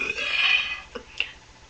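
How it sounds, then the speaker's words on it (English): A single long, loud burp from a woman rumbles out close to the mic, trailing off into a couple of short throaty catches. "So first of all, we're gonna start with the Lala burp."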